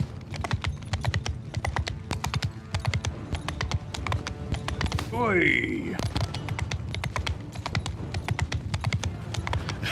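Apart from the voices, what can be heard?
horse hooves clopping in a video game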